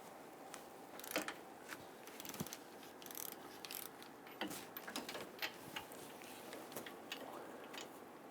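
A ratchet with an 18mm socket loosens a rear caliper bolt on a Dodge Charger, giving off quick, faint irregular clicks with some metallic clinks, close but quiet, with no talking.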